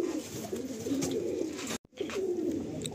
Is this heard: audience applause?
no